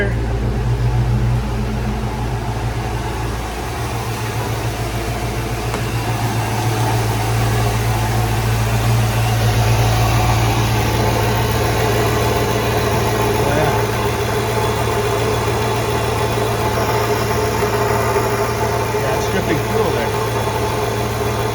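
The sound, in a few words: Ford SN95 Mustang GT engine idling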